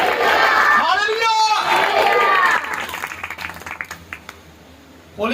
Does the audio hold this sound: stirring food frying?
no